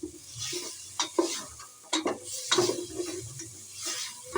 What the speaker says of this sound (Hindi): बगैर ऑयल के ही हम चिकन की भुनाई करेंगे।